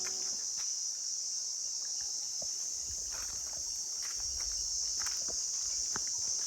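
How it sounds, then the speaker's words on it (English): Insects keep up a loud, high continuous drone outdoors in Dambulla, with faint scattered crunching footsteps on the ground and sparse soft ticks beneath; no birdsong stands out and nobody speaks. "All we can hear are the birds singing, the insects humming, and our footsteps on the ground."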